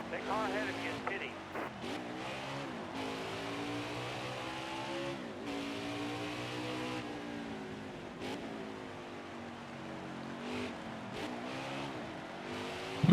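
Racing truck engine in the NASCAR Heat 5 video game, with a sustained high-revving drone whose pitch climbs and dips through gear changes and throttle lifts, loud and continuous.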